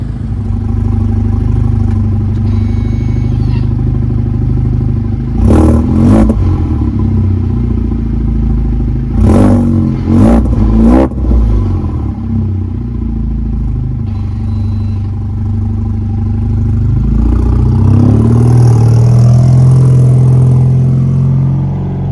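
An Alfa Romeo Giulia idles while warming up at an autocross event, a steady low engine hum running throughout, broken by a few sharp clanks and clicks, with a slight rise in engine tone near the end.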